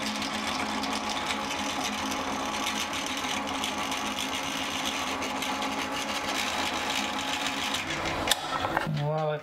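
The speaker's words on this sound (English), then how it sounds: "So let's get that hole drilled." A drill bores a hole for an RV storage shelf, a steady close mechanical whirring that runs continuously for several seconds before winding down at the end.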